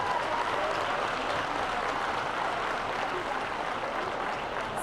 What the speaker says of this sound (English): let's give them a great hands of applause